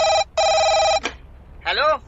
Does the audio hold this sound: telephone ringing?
yes